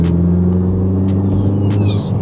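Ford Focus ST MK4 with a Scorpion GPF-back exhaust in normal mode accelerating, a loud, close, deep steady engine drone with rising tone throughout, briefly overlaid by faint higher noises.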